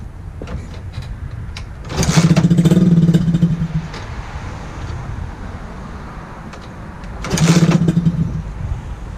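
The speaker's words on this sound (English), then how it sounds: "Alright, the choke is on. Let's see if it starts up." X15 pocket bike with the choke on, cranked twice in two separate bursts of about two seconds each, with a buzzy rattling turnover that does not catch and quieter handling noise between the attempts.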